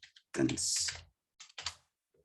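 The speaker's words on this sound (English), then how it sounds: "I'm going to type it down here" Computer keyboard typing in a few quick bursts of clicks, fairly close and clear, with short pauses between them and no talking over it.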